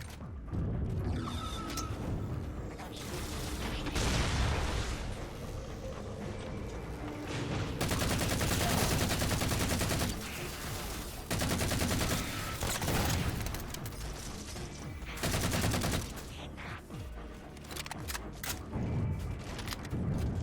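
Magnum pistol fire in Halo 4 on Xbox One, mixed with dense bursts of in-game gunfire and explosions, loud and continuous with brief lulls over about twenty seconds.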